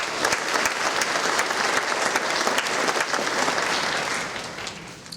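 Audience applause at a nursing pinning ceremony, a full, sustained clapping from a large seated crowd in a hall that stays steady for several seconds before tapering off.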